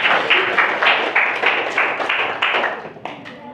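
A classroom group applauding a student presenter, with a short run of about a dozen distinct clap bursts at a steady rhythm, fairly close and loud, fading slightly toward the end.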